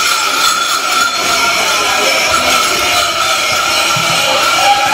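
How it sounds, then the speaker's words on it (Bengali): A crowded train pulls out of a busy station before dawn, its loud, continuous rumble and rail noise filling the scene, with faint voices under it. "এই আমাদের ট্রেন ছাড়ছে, দেখতে পাচ্ছি কিরকম ভিড়টা শুনে দেখো।"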